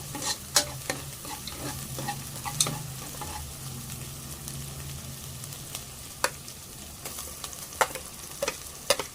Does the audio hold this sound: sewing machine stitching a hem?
no